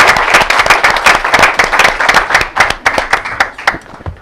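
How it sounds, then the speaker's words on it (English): Steady applause from a room full of people at a school committee meeting, many hands clapping at once, loud and close throughout. "Nice round of applause for our students."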